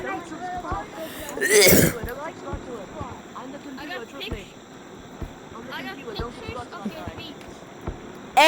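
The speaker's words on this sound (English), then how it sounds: "Oh, yep, it's making me cough." A person coughing and clearing their throat after taking medicine, one loud close cough burst early followed by smaller throat sounds amid steady speech.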